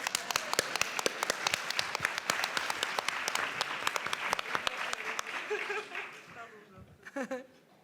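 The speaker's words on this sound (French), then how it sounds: "je propose de l'applaudir." A conference audience at an ecofeminism talk claps for a speaker, crisp individual hand claps close by within wider applause that thins out, with a little laughter and a voice speaking near the end.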